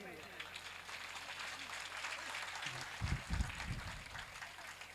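Men in the audience at a Shri Ram Katha religious discourse in Giridih, Jharkhand, clap steadily, a dense crackling patter filling the hall throughout, with a few louder low thumps and a murmur of voices near the end.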